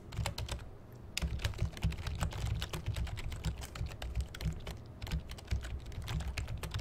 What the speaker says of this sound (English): You can probably hear my keyboard.